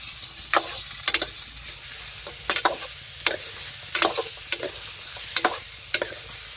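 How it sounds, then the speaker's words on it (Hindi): Kaitha (wood apple) pieces for pickle are stirred in a pan, a spoon scraping in repeated short bursts over a soft steady sizzle, with no talking. "अब हम कैथा को चलाएंगे।"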